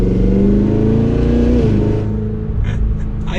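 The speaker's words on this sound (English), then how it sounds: "I'll do some accelerations here again. It's crazy to hear that from a Cadillac Escalade." A 2023 Cadillac Escalade V 4WD accelerates hard with a deep, loud exhaust roar that rises in pitch, then eases off into a lower burble.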